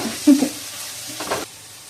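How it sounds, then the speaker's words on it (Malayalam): Onion, ginger and garlic fry in a hot pan for a chicken roast, a close sizzle with two short bursts of stirring, then settling to a faint steady hiss. "ഇഞ്ചിയും വെളുത്തുള്ളിയാണ് ഇട്ടത്."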